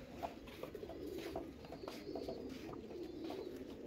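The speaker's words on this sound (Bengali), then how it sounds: "বেজি নর কবুতর।" A silver-necked male pigeon at a pigeon loft in Mirpur coos softly and steadily through the whole stretch, faint and close, with no talking.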